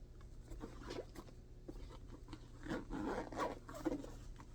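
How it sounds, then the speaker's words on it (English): A zipper on a bag is opened in a few faint, scratchy pulls amid soft rustling, quiet and close in an otherwise still room. "there is the inside zipper with more stuff"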